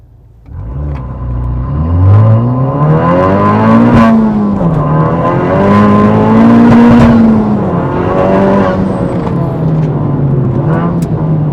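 A Honda Civic Type R engine revs and pulls away hard from a standstill on a damp road, pitch rising through the gears in a loud, sustained roar close by.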